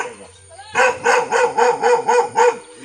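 Dog barking in a quick, regular series of about seven sharp, close barks following a brief whine.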